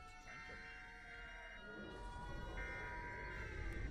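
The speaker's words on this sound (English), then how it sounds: "This siren's about to try and kill me." A distant siren wails in long sustained tones that shift pitch in stepped cycles, fairly faint over a low rumbling background, with a brief murmur of voice.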